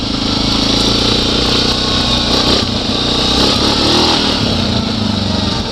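A quad ATV engine drones loudly and steadily while riding, with slight rises and falls in revs, close up and continuous throughout with no talk.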